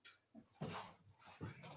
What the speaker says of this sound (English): can you guys hear Cody? He doesn't bother to see who it is. He's a bark first, ask permission later kind of guy